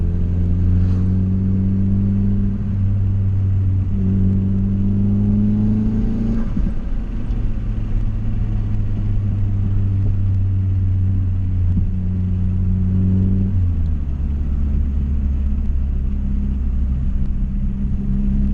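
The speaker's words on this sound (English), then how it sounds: "I'm just driving around a little bit so that way the alternator can charge up the battery a little bit" A car driven around to let the alternator recharge its battery hums and rumbles steadily, its engine note stepping up and dropping back through several gear changes from inside the cabin, with no talking.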